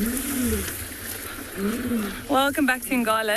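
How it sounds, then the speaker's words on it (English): Lions roar at a distance on an African safari game drive at Ngala, a low, faint rumble heard behind a voice talking over it. "So we have found the lions. You can hear them roaring in the background,"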